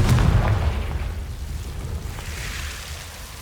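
A Confringo fire spell explodes in Hogwarts Legacy: a loud, close boom with a rumbling low end that fades over a few seconds into a washy tail.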